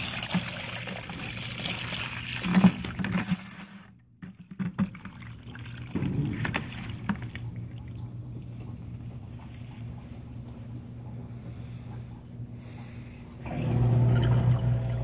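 A Consul 16 kg washing machine draining water from a load of towels, with a low steady hum and soft gurgling flow. The sound shifts and quiets in the middle and then surges louder near the end.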